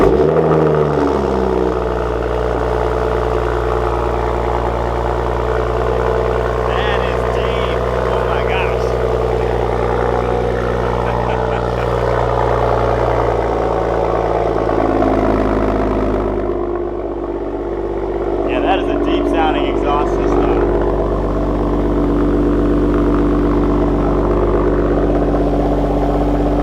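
A manual Toyota Supra with an AWE resonated touring exhaust fires up from cold and settles into a deep, steady idle rumble. It stays loud and close throughout, with a voice talking over it at times.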